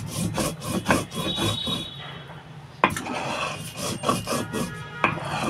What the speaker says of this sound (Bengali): এবার এটা ভালো মিহি করে বেটে নেব।